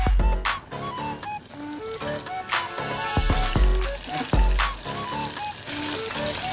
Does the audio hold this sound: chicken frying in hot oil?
yes